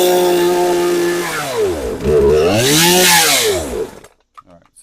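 A Poulan Pro PR5020 chainsaw that bogs down and won't idle runs roughly, dips in pitch, then revs up and sags again before it stalls into near silence.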